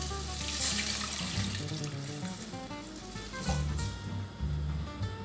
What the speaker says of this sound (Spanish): Le voy a agregar agua.